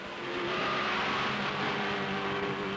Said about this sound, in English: Out onto the track, the final warming-up laps prior to the start.